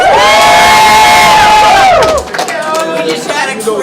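Crowd at a rap battle league event in Nova Scotia cheering and whooping loudly, a dense roar of shouts and cries that swells and then drops off into lighter scattered yelling.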